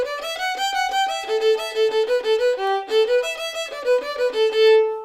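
An Irish traditional fiddle plays The Lilting Banshee, a quick run of clean bowed notes in a lilting rhythm, solo and close with no other sounds.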